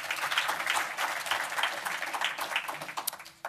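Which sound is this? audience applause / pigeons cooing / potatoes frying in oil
audience applause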